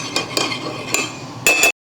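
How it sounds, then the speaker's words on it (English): A metal utensil scrapes and clinks against a pan while tomato paste is stirred into a red wine sauce, giving a few quick, close strokes and a brighter clink near the end. "So I'm going to stir this"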